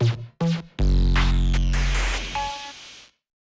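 Classic drum machine kit in the Cubasis 1.8 EFX version with heavy effects: a few short hits, then a loud booming, ringing crash-like tail full of effected noise that fades out after about three seconds.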